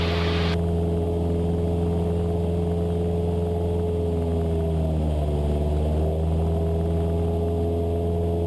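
A small single-engine training airplane cruises in flight while being leaned after climbing through 3,000 feet, giving a loud, steady droning hum with strong low harmonics throughout, a slight pitch dip midway, no talk.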